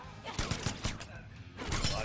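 Rapid gunfire from Mortal Kombat X during a tournament match, a quick volley of sharp shots being blocked, heard under crowd noise and commentary.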